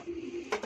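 Pigeons coo faintly close by. A soft low murmur is followed by two brief louder bursts near the end.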